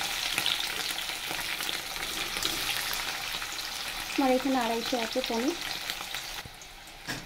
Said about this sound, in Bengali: পনিরগুলো আমি ভেজে নেবো, আর আমি সাদা তেল খাই, ওই জন্য সাদা তেল দিয়েছি।